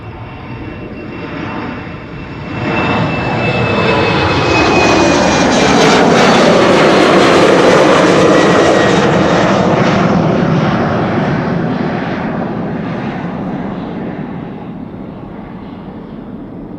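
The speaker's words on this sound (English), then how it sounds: "KLM flight 1087, it is already rolling. Embraer 190, going to Cardiff" A KLM Embraer 190 jet, 15 years old, rolls for takeoff at Schiphol bound for Cardiff, its engine roar swelling to a loud, broad peak midway and then easing off as it climbs away, with no talk.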